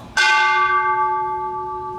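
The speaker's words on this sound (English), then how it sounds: "Please ring the bell." A single bell rings at a peace ceremony for the United Nations Day of Peace, one loud, clear strike with a bright metallic attack that sustains and slowly fades into a long, steady hum.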